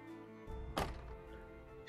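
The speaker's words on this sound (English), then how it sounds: "The car door." A car door shuts once with a single solid, muffled thunk at close range, followed by a soft rattle against a quiet background.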